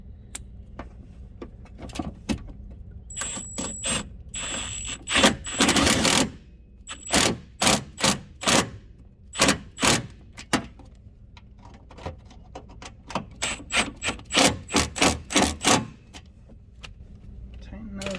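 Rokblokz fender flare bolts tightened on a Kawasaki Teryx 4, rapid bursts of ratchet clicking repeating in short rhythmic runs, close and fairly loud, with a faint metallic whine in places.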